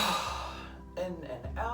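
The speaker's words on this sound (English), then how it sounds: "take some nice deep breaths" Slow, deep breaths in and out during a guided relaxation exercise, with soft soundy inhales and exhales over a quiet background of gentle music.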